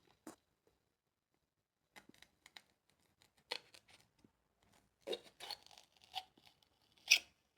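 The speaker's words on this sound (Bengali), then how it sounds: "আর একটা কেটে দেখিয়ে দিচ্ছি আপনাদের।" A knife slicing through a dried Kashmiri chili, a string of faint crisp snips and crunches clustered near the end, close and quiet, with no one talking.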